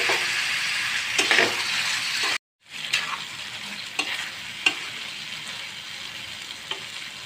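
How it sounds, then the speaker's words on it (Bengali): Tomatoes tipped into a pan of oil-rich fried spice paste for tomato chutney: loud, continuous close sizzling with stirring scrapes and a brief dropout, then the frying hiss resumes. "এখন আমি টমেটোগুলো আমি দিয়ে দিব।"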